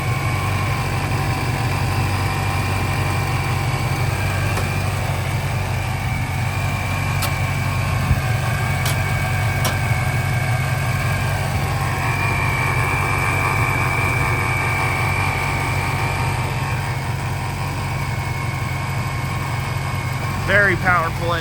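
A supercharged car engine idles in a steady, low, continuous rumble, with a faint high whine above it and a few light ticks along the way.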